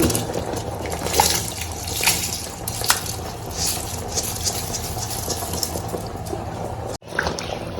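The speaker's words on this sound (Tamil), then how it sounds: "தண்ணி நல்லா கொதிச்சிருச்சு." Water boiling hard in a pot for Ambur mutton biryani, a steady dense bubbling and hiss that runs evenly throughout with no talking, ending in a brief cut.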